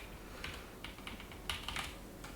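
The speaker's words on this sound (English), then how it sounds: "I really mess up with the keys here because I can't see anything on the keyboard right now." Fingers type on a computer keyboard in bursts of soft, quick key clicks, close and fairly quiet over a low hum.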